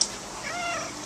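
A pet cat just after a bath to wash out fleas and dirt gives one short, close meow, faint and alone with no talk.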